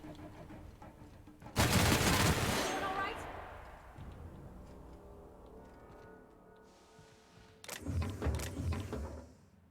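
Gunfire in The Outer Worlds video game: a loud burst of shots early on that decays into a lingering rumble, followed later by another shorter volley, with game ambience between.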